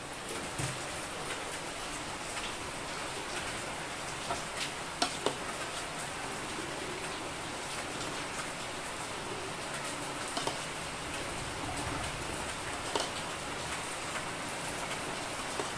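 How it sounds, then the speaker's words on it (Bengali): Steady rain falling, a continuous hiss of drops with a few sharper taps on nearby surfaces, no voices. "আর এদিকে বৃষ্টি পড়ছে, আর এই সময় বৃষ্টি চালু হয়ে গেছে"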